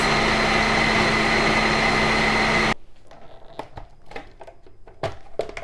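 A blender whirs loudly and steadily while blending a two-ingredient ice cream, then cuts off abruptly partway through, leaving quieter clatter and scraping sounds.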